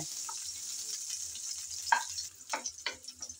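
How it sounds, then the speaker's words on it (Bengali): Chopped garlic and panch phoron fry in hot oil as a soft, steady sizzle, with a few stirring scrapes and clatters near the end, close by and fairly quiet. "রসুন কুচি আর পাঁচফোড়ন নেড়ে চেড়ে হালকা করে বেজে নেব"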